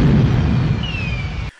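Movie explosion from the horror comedy Frankenhooker: a loud, dense roaring blast that rumbles steadily for about a second and a half before cutting off abruptly, with no talking.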